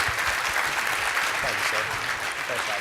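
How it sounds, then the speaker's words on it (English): Steady applause from a crowd fills the space, with a voice speaking briefly over the clapping. "Give him a round of applause."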